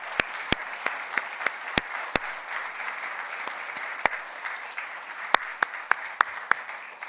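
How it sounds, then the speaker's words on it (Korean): A church congregation claps in thanks for a pastor, a sparse, scattered applause with distinct individual claps standing out over a soft, steady patter, fairly quiet and without talk. "우리 다 함께 우리 공효순 목사님께 한번 감사의 박수 드리겠습니다"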